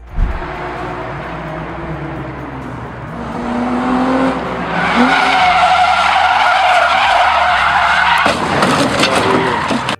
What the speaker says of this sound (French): Une voiture roulant à vive allure entre dans une zone et heurte un obstacle en dérapant.